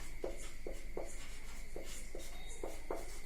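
A value is written out by hand during a chemistry lesson, giving a run of soft, evenly spaced scratchy strokes over a low steady hum, close and quiet.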